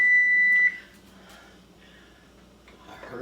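A kitchen timer gives a steady, loud electronic beep for under a second, announcing that biscuits are done. Quiet room sound and faint movement follow.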